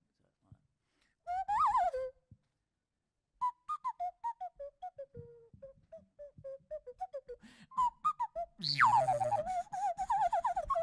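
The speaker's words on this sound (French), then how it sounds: "c'est un sifflet de nez, c'est-à-dire qu'on siffle avec le nez et on module avec la bouche" A shrill nose whistle, blown through the nose and modulated by the mouth, warbles through rising and falling melodic phrases, played in bursts with short gaps, ending in a louder swooping passage.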